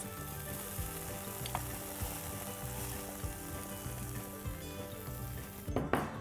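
Rice for jeera rice is stirred into a pan of cumin, fresh cream and coriander mixture, sizzling steadily up close, with a scrape of a spoon against the pan near the end.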